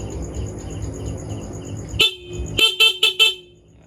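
A steady Honda XRM 125 motorcycle engine idle cuts off, then a high, thin horn beeps in four short honks, loud and close.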